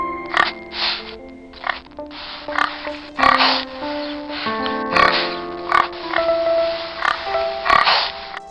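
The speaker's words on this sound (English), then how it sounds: "Pig." A pig grunts and oinks in short, snuffling bursts, repeated irregularly and close by, with soft scraping and a steady tonal background underneath.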